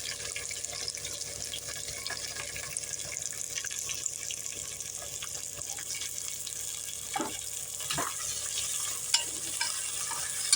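Onions, green chillies, coriander and mint frying for Tamil Nadu mutton biryani: a steady hissing sizzle under bright running-water-like noise, with a few scrapes of a spoon near the end and no speech.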